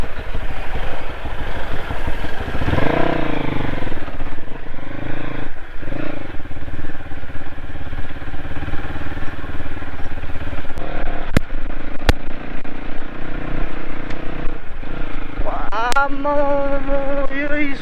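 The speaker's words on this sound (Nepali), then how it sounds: "यो स्कुटरले धरी यत्रो धुलो उडाएको" A scooter passes along a dusty path, kicking up dust. Its engine drones steadily and close for the whole stretch, with a few faint voices nearby.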